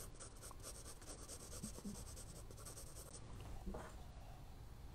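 Pencil or charcoal scratching and rubbing across scrap letter paper during a drawing lesson, a steady soft close-up scritching with brief louder strokes, no talking.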